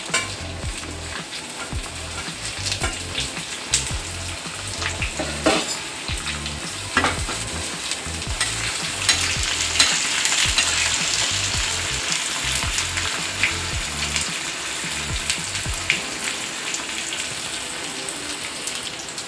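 Green chillies and onion frying in a pan for bisi bele bath, a steady close sizzle with occasional stirring scrapes and crackles throughout, no talking.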